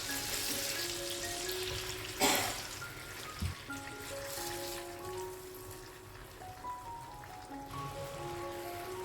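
Marinated chicken frying in sunflower oil, a steady close sizzle with spattering crackles and one louder burst of spitting near the start, running continuously without talk.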